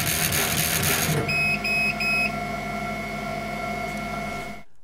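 A Light Blade laser engraving machine runs with a steady whine and hum, three short beeps sounding early on, then a sustained mechanical drone that cuts off at the end.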